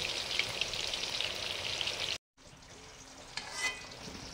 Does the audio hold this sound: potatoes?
yes